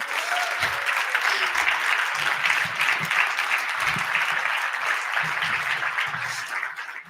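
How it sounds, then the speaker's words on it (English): Sustained audience applause at a talk during a conference on building free and conscious communities in Mexico; loud, dense clapping continues steadily for about seven seconds before tapering slightly at the end. "Let's give her another round of applause"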